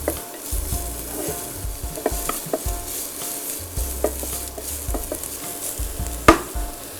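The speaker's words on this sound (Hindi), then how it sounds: "आप प्याज को छोड़ सकते हैं। इसे थोड़ा सा हम सौटे करेंगे।" Onions sauté in a pan with a steady crackling sizzle. Frequent scraping and clinking strokes of stirring run through it, closing with one sharp clank. No one speaks.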